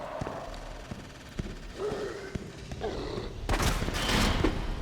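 Shotgun blasts in the video game Resident Evil 2, several sharp shots spaced apart, quiet at first and louder at the end, among game ambience.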